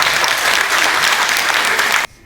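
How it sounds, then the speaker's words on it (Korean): Loud, dense applause from an audience at a 2019 memorial ceremony for Dr. Lee Young-chun in Gunsan, filling the space steadily before cutting off abruptly near the end. "유가족 대표로 인사해 주신 윤순재 총장님께 다시 한번 힘찬 박수 부탁드립니다"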